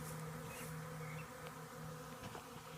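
Honeybees buzzing around a newly started hive, a continuous faint droning hum of many insects with a steady tone throughout, heard from a few meters away.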